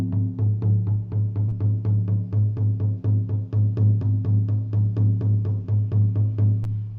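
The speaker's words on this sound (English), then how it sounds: "So traditional shamanic drum beat sounds like this" Steady traditional shamanic frame drum beat at roughly 220 beats per minute, each deep resonant stroke evenly spaced and loud, continuing alone without any talk.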